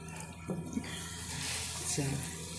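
Water splashes and trickles in short pours into a pan of keema masala as it cooks, close and moderately loud over a background hiss, with brief talk heard.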